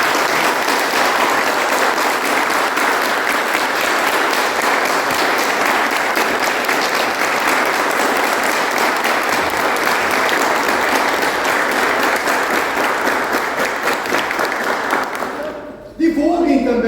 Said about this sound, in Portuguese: E uma forte salva de palmas ao coral de Rio Negro Mafra